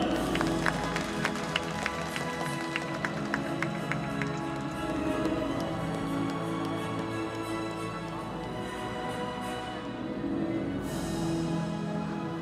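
Audience applause fills an indoor arena at a men's artistic gymnastics awards ceremony, steady dense clapping with scattered sharper claps and a low crowd murmur, holding evenly throughout with no voices standing out.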